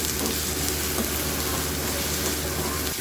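Thinly sliced pumpkin peels fry in mustard oil in a wok, giving a steady, close, broadband sizzle that runs unbroken throughout, with a faint stir or scrape near the end.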